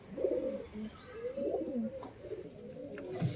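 Pigeons in a loft coo softly in repeated low, throaty phrases, with a few faint chirps, fairly close and without talk.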